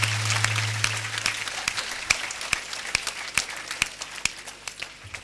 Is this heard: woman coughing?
no